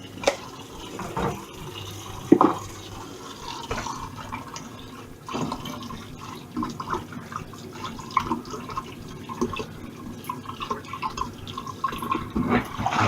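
Cooking pans from a ratatouille pasta bake being rinsed under a running kitchen tap, a steady close wash of water with clinks and splashes over about thirteen seconds and no talking.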